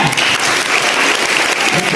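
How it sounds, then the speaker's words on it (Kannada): An audience breaks into dense, sustained applause for Manoj at a comedy show held at the BGS educational institution in Dharwad, steady and loud throughout with no pause. "ಮನೋಜ್ಗೆ ಬರಲಿ ಜೋರ ಚಪ್ಪಾಳೆ."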